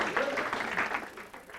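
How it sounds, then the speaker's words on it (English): A short burst of audience applause for a student investment team, a moderate wash of clapping with some voices underneath. "Let's have a round of applause for Bruce Thompson's team."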